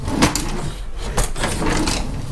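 A shallow wooden drawer slides open and shut a few times, close and loud, with rubbing scrapes and light knocks.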